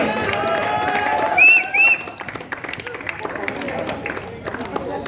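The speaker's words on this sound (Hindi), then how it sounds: "वे दीपक के लिए जोरदार तालियां।" Applause from players and spectators for a basketball referee at the closing ceremony of a district basketball tournament, dense clapping and crowd noise running steadily throughout at moderate volume, with a couple of short whistle-like tones and voices mixed in.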